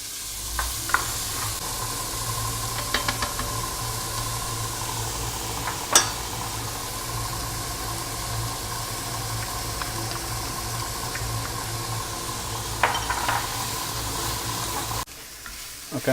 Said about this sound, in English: Just gonna saute this down a little bit.